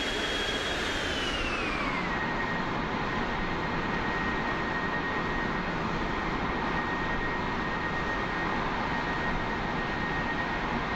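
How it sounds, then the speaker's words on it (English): A plane in the Minecraft Immersive Vehicles (MTS) mod flies and banks through a turn, its steady engine roar and whine holding loud and continuous, with a pitch that drops early in the turn and then levels off. "As you can see, this plane can easily make this turn now"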